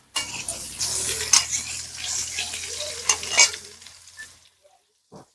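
Potatoes and cauliflower sprinkled with turmeric and salt crackle loudly in hot oil while a utensil stirs them with sharp scraping clicks, then the sizzle stops and falls silent apart from one last tap.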